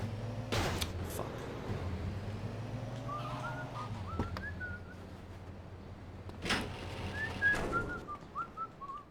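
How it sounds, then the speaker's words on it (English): A person whistling short melodic phrases in an echoey room, the tones faint and reverberant, set over a low droning hum with a few sharp knocks between phrases. "I love the sound of whistling in this echoey room."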